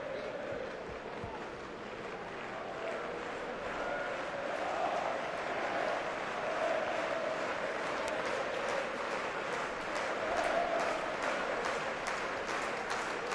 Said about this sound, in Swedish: Norrköpings publiken gör vad de kan för att klappa igång sitt hemmalag